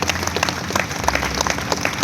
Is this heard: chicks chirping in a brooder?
no